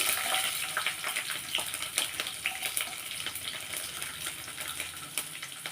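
Garlic frying in a pan for a bottle gourd chutney, a steady bright sizzle and crackle with scattered stirring clicks, close and continuous with no talking.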